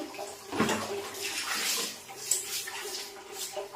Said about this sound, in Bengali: দাঁড়াও এখানে পেছনে একটু জল ঢুকাই, না হলে সাবানগুলো থেকে যাবে